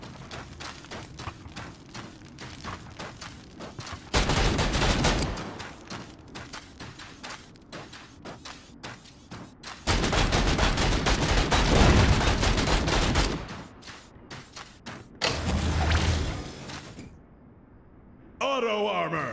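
Machine gun fire in the game Vicious Attack Llama Apocalypse, rapid repeated shots rattling throughout with several loud sustained bursts, under occasional speech.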